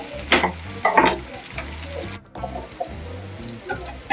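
Onion, green chili, ginger and garlic fry in a pan for a paneer gravy, a steady sizzle broken by several louder scraping stirs and one brief dropout partway through.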